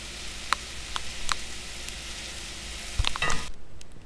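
Mushrooms sautéing in a hot pan for lasagna roll-ups, giving a steady broadband sizzle with a few sharp clicks of stirring or tossing and a brief louder burst near the end.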